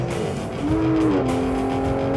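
An Aston Martin sports car accelerates hard, its engine note loud and close with a sustained tone that climbs and then holds, alone without talk.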